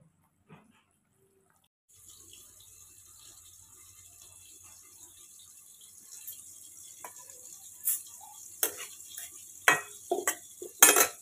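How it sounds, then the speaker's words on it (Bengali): Spices with onion, two garlic cloves and ginger fry in a pan, a steady sizzle building after a quiet start, with spoon-stirring clinks and scrapes growing louder and more frequent toward the end. "মশলা কষা হচ্ছে, এর মধ্যে পেঁয়াজ, একটু 2 কোয়া রসুন দিয়েছি, একটু আদা দিয়ে দিয়েছি।"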